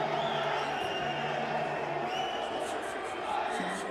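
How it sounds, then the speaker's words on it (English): Morocco supporters at a Morocco versus Colombia football match make a steady roar of crowd noise, distant and continuous, with a commentator talking over it. "the reaction from the crowd, the noise, the fact that it gets them fired up"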